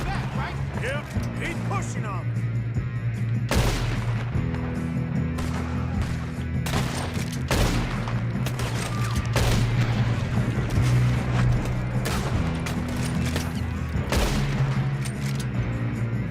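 Gunfire during a train robbery in Red Dead Redemption 2, with sharp repeated shots over a constant rumble and game score, mixed with speech.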